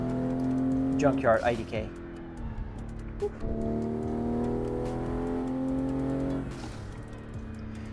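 A car engine in an Assetto Corsa setup runs at its rev limit without changing gears, a steady high-revving tone held for seconds. Someone talks over it and briefly interrupts.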